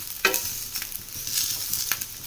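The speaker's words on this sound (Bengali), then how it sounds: "আলু ভাজছি" Boiled potatoes sizzling in oil on a greased flat griddle, with scraping stirring strokes and small crackling bursts over a soft, steady fry, close and fairly quiet.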